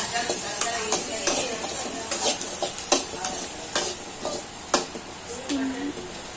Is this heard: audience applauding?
no